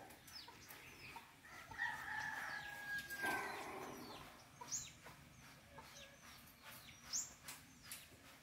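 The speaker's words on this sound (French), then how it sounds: "Il y a deux petits poulets là-bas." Young chickens squabbling on a work site, with short clucks and a rooster-like call rising over steady outdoor background noise, a few sharp squawks near the end.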